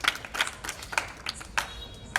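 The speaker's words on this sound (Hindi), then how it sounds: "इनकी अद्भुत और मनोहर प्रस्तुति के लिए एक बार जोरदार तालियां हो जाए।" Scattered applause from an audience at a Vijayadashami celebration at a girls' gurukul, a handful of sparse, distinct claps spread unevenly across a few seconds, fairly faint and thin rather than a full ovation.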